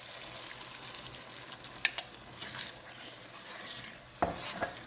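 Broth is poured into a hot pan of shepherd's pie filling, giving a soft bubbling sizzle with a couple of bright clinks from a utensil against the pan, close and fairly quiet.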